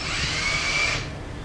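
A cordless combi drill on torque setting 1 whirs up with a high, steady motor whine when the trigger is squeezed, then spins down, close and alone for about a second.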